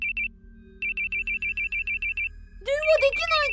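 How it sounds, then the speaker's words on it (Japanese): An old mobile phone alarm in a horror video game beeps in a rapid repeating electronic pattern, followed by a loud warbling ring tone, while a voice talks over the ring. "びっくりした。 アラームか。"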